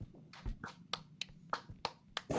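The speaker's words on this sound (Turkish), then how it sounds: "Çok iyi alkışlıyor kanka" Half a dozen sharp hand claps ring out close by in an uneven rhythm, each a crisp separate smack over a low murmur of room noise.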